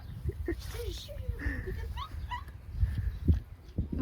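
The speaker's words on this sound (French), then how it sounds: "Le chien il fait le bruit d'un canard." Dog making short, high, squeaky yips that sound like a duck's quacking, several scattered calls under people talking nearby.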